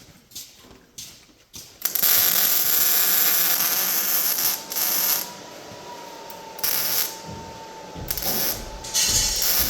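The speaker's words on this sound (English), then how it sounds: "I'm doing some pretty heavy tacks here. I really want to penetrate." Heavy tack welds on a 1966 Chevrolet Impala SS quarter panel, loud buzzing crackle bursts lasting a second or two each with short pauses between, close up.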